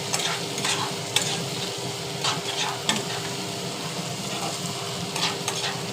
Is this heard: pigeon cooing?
no